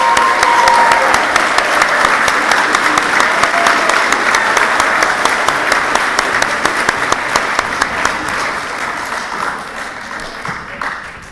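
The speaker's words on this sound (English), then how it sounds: "let's have a round of applause for our teachers and parents" An audience at a 7th grade school award ceremony applauds the teachers and parents, a dense, loud burst of clapping that holds steady and then thins out toward the end.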